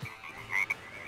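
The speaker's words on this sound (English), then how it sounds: "That sounds like a little baby frog." A small frog croaks in one or two brief, fairly faint calls over a steady background hiss.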